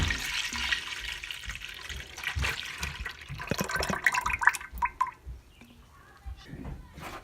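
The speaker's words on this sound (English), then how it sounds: "Into the pot goes my milk." Milk poured from a container into a pot on the stove for homemade yogurt, a close splashing, gurgling liquid stream that swells and then tapers off, with no talk.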